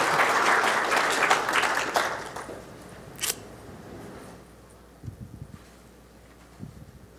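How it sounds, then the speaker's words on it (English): A cybersecurity conference audience applauds, a dense patter of clapping that fades away after a couple of seconds, leaving a quiet room with a few small knocks. "So a round of applause for Jennifer, for Josephine."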